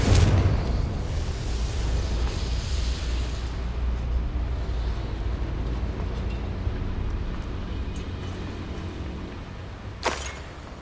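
A Confringo blasting spell in the Hogwarts Legacy video game sets off a loud, sustained rumbling explosion that fills the scene, tapering slowly before a short sharp crack near the end.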